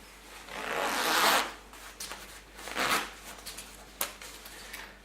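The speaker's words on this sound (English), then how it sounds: "Hey presto, it's working. I now have a zipper on my jacket." A replacement zipper on a jacket is zipped in several quick, raspy strokes, loud and close, with a longer pull first and shorter rasps and clicks after.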